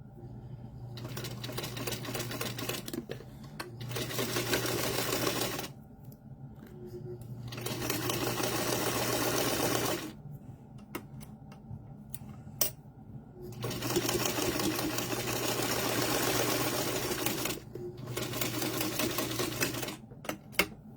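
A sewing machine chain stitches quilt block pieces in close, loud bursts of rapid rhythmic needle clatter. Short pauses separate the runs, and a low motor hum continues underneath.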